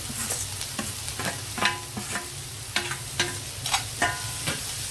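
Onions, potatoes and curry leaves fry in a pan under a constant close sizzle, with regular scraping stirs of a spatula punctuating the hiss every half second or so; no one speaks.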